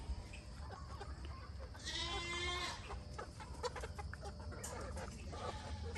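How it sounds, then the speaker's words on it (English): A rooster with a large red comb crows once, faint and somewhat distant in a quiet farmyard coop, amid other soft fowl sounds and no talking. "the one with the giant red comb is the one that's crowing"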